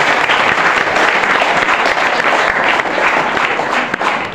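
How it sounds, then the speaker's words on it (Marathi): Audience applause at a Class 10 farewell ceremony at Kharepatan High School, a steady, loud round of clapping from a crowd filling the whole stretch without a break. "पुन्हा एकदा आपण जोरदार टाळ्या वाजवून त्यांचे अभिनंदन करू"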